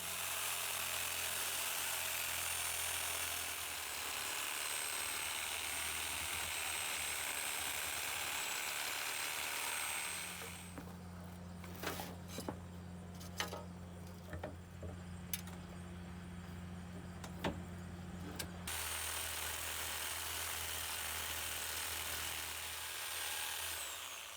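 A sawzall reciprocating saw cuts through the copper coil end of an electric motor, a steady buzzing whine running for several seconds with sharp clicks and bursts of bite, set against a continuous motor hum before and after.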